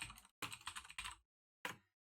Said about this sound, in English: as soon as I hit the tab key after typing that in